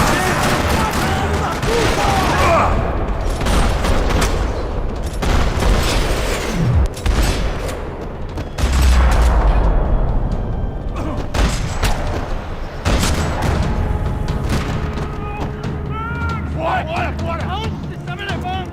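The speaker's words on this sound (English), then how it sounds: "Another parking lot rattling with gunfire." Heavy gunfire fills a parking lot in the video game Max Payne 3: dense, continuous bursts of automatic fire and booming shots, loud and close, with scattered thuds and impacts and no letup.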